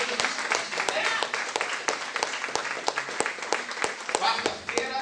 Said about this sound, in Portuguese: dê o mais forte aplauso que você pode dar ao nome do Senhor Jesus